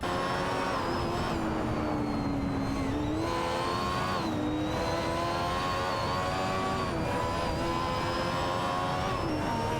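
Race car engines in a racing video game, a Ferrari F1/87/88C and a Benetton B188, screaming at high revs in a continuous loud drone, pitch dipping and climbing through gear changes.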